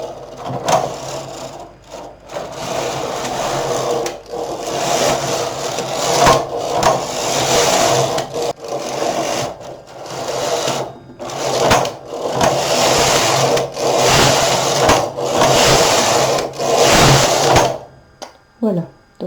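An SK 280 double-bed knitting machine knitting rows of waste yarn: a steady rhythmic mechanical whirring and rasping as the carriage slides back and forth in repeated passes, close and continuous with brief pauses between rows.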